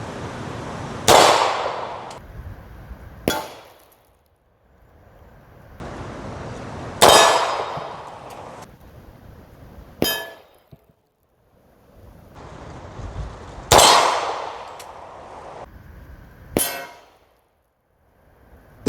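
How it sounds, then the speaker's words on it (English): Gunshots ring out against an AR500 steel armor plate in three repeated pairs, each a loud sharp metallic clang followed by a ringing decay and then a quieter second hit, with no talking. "So starting with the AR500 steel here, I actually hit it twice."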